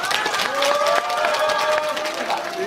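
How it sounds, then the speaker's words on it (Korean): A crowd applauds at a Korean gathering celebrating the plaintiffs' full Supreme Court victory in a forced labor case, a steady wash of clapping with a tonal hum running beneath. "우리 힘찬 박수로 응원해 드립니다"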